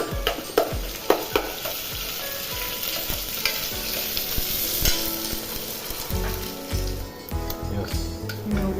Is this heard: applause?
no